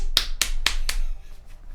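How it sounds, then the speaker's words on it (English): Four sharp, evenly spaced hand claps close to the microphone in a small podcast room, each crisp and snappy, with nothing else around them. "Give him a round of applause, everybody."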